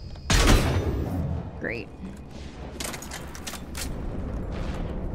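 Enemy turret in the video game Mass Effect 3 opening fire with a sharp, loud burst, followed later by a run of quicker shots amid battle noise, while someone speaks briefly.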